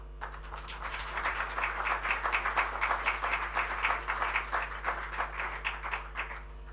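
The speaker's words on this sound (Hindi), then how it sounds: "इनसे रिक्वेस्ट करूँगी कि हमारे जो गेस्ट हैं उनके लिए बहुत सारी तालियाँ बजा दें" Studio audience clapping for guests at a students' award ceremony, a steady patter of many hands at moderate distance, fairly soft, with a low constant hum underneath.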